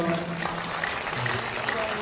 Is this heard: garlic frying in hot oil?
no